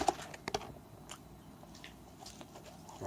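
Someone chews fries close to the microphone, with a few sharp crunchy bites near the start and then quieter, softer chewing.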